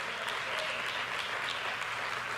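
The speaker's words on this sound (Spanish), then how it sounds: "Alguien le da un aplauso al Señor." Church congregation applauding together during a Spanish-language sermon, a steady dense wash of clapping that fills the whole moment without a break, no voices rising above it.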